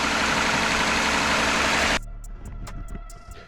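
Engine of a 2019 Jeep Grand Cherokee idling after a spark plug change, a steady close low hum that drops abruptly midway to a quieter idle with light ticking, no talk.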